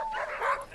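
A sled dog gives a short, close yipping bark, a single brief whiny outburst of under a second.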